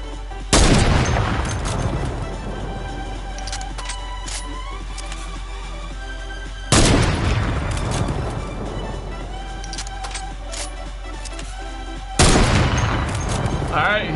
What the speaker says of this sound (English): One by one, we're shooting these bushes, baby.